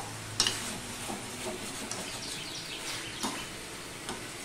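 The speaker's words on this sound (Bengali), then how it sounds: "আমি আবারও একটুখানি নেড়ে চেড়ে দেবো, না হলে লেগে যাবে কড়াইয়ের গায়ে বা তলা" A vegetarian drumstick curry is stirred in a wok, with soft scraping and faint sizzling. A few light knocks of the utensil stand out against a low, quiet cooking hiss.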